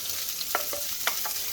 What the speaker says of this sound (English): I always get it nice and hot so it sizzles when something drops in there